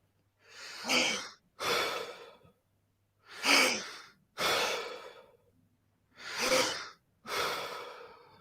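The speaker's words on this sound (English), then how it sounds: "Just keep breathing in deep." Deep breaths drawn in through nose and mouth, six heavy breathing sounds alternating inhale and exhale in a slow, even rhythm, loud and close, with no talk.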